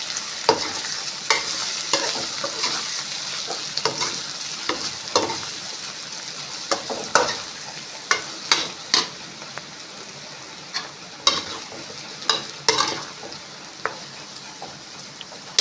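Red chilli and coriander-cumin powder with turmeric fry in oil for spicy Gujarati karela shaak while a spoon stirs, a steady soft sizzle broken by repeated sharp scrapes and clinks against the pan.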